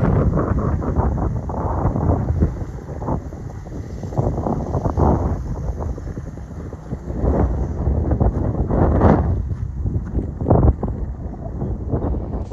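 Gusty wind buffets the microphone near the Peruvian coast, a steady rough roar with swelling gusts throughout, loud and close, no voices.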